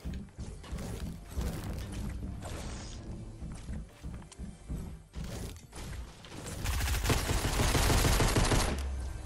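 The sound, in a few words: gunfire from a pistol in the video game Fortnite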